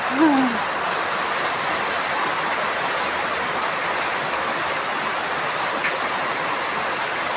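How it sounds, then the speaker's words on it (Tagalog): Heavy rain pours down in a steady, dense roar that holds unbroken throughout, with a brief animal-like cry right at the start. "Grabe ang ulan ngayon"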